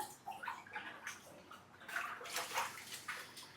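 Water drains out of a home aquarium with high total dissolved solids, a close, soft sloshing and trickling that swells and fades in uneven surges over a few seconds.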